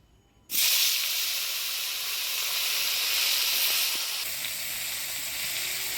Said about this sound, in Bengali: কই মাছগুলোও ভাজি নিব